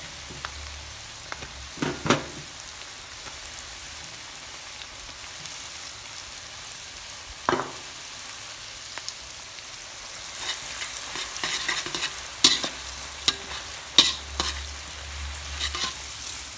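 Shallots fry in hot oil for son-in-law eggs, giving a soft steady sizzle with scattered spoon taps and stirring clinks that grow busier toward the end, close by and without talk.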